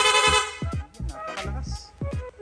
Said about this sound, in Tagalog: Rapid horn.